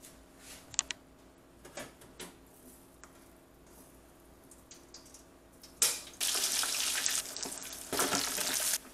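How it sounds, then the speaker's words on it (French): Creole griot pork dropped into a deep fryer; faint ticks and small clinks give way to a sudden loud, steady sizzle of hot oil that continues close by. "Je vais le retirer et puis mettre le dans la friteuse."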